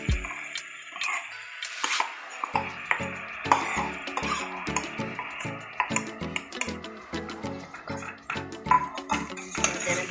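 Washed rice tipped into a pot for mixed vegetable pulao, with scraping, clinking and wet shuffling of grains against metal in a steady, uneven rhythm, close and moderately quiet, without speech.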